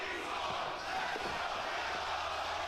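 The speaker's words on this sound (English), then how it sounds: "You can hear a 50-50 split between the raucous crowd here in Atlanta." A raucous wrestling crowd in an Atlanta arena during a women's tag match, a constant roar of shouting and cheering voices heard from a distance with no break.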